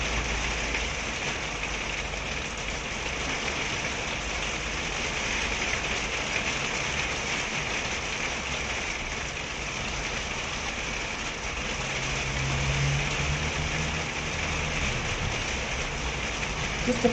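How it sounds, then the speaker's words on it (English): Steady, dense rain and hail pattering on a surface during a storm, loud and continuous, with a low engine-like rumble underneath; individual hailstones are hard to pick out. "It's raining and then it's hailstoning."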